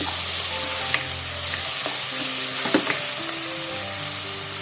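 Mutton curry base with salt and tomato paste sautéing in a pan, a steady close sizzle and crackle with a few stirring clicks, no voices.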